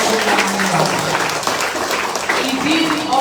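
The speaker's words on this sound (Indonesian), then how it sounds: "Tepuk tangan untuk Opa Yika Madila." Audience applause for a guest presenter at the opening of a political party's restoration school in Merauke, a steady dense wash of clapping with voices mixed in throughout.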